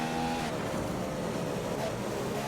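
F1 car engine from F1 2015 racing through Silverstone's Maggotts and Becketts, a steady high-revving whine with pitch shifts through the corners, heard alone without talk.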